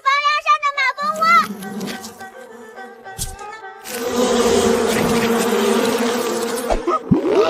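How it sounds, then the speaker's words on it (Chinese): A voice comes first, then wasps from a hornet nest on a roof beam set up a dense, sustained buzzing that fills the rest of the moment at close range. "小心房梁上的马蜂窝！"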